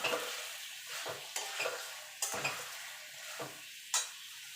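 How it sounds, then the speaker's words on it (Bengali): Papaya and potato pieces being stirred with spices in a hot pan, with a continuous soft sizzle broken by several sharp scrapes and clinks of a spoon against the pan, close up. "এবার দিয়ে দেবো পেঁপে আলুটা, দিয়ে ভালো করে কষিয়ে নেব মশলার সঙ্গে"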